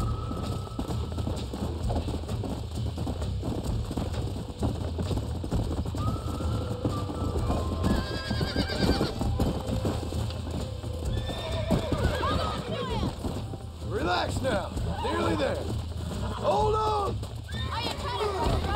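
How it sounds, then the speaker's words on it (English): A horse in Red Dead Redemption neighs and whinnies repeatedly while bucking, its hooves thudding and stamping under a low steady rumble, with several sharp shrill cries toward the end and a person talking at times. "Damn, that horse is getting pretty annoying to break."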